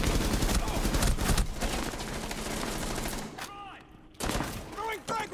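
Machine gun fire rattles in Rainbow Six Siege, rapid sustained bursts of shots up close, broken by a short pause, with players talking over the gunfire.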